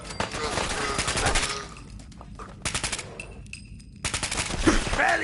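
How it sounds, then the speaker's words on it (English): Rapid gunfire bursts in the video game Fallout 4: loud automatic volleys with short pauses between them, close and sharp, and a faint voice underneath at moments. "Need covering fire, you punk!"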